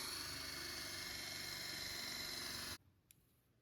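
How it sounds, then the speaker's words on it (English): Power drill boring holes in metal during a DIY restoration of a Japanese vise, a loud steady whine that runs continuously and then cuts off abruptly, leaving near silence with one small tap. "Okay, got all 3 holes drilled."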